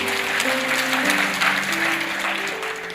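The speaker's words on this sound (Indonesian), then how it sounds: "Kita beri tepuk tangan untuk kebenaran ini" Church audience applauding during a sermon on Christology, a continuous patter of clapping with sustained tonal music or organ notes beneath it.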